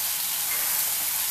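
Mushroom masala sizzles steadily in a pan, a continuous close hiss of frying with no break.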